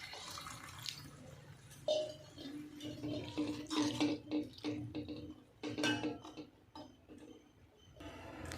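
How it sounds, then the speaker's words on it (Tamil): Water is poured in small amounts into a spicy black chickpea curry gravy, a faint splashing trickle mixed with soft clinks and clatter of utensils in a quiet kitchen. "இந்த கிரேவிக்கு தேவையான அளவு கொஞ்சமாக தண்ணி, சும்மா ரொம்ப இல்லை, கடலை மூழ்கிற அளவுக்கு."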